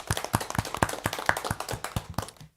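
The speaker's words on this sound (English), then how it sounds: "can we just give them a round of applause?" A small audience at a school board meeting claps in a sparse, distinct rhythm of individual hand claps, close and moderately loud, fading out at the end.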